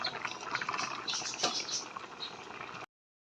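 Native chicken tinola broth boils in a pot, giving a close, continuous bubbling and simmering with crackly liquid texture for a few seconds before cutting off.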